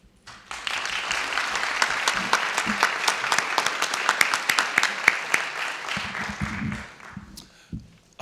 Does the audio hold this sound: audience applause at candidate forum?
yes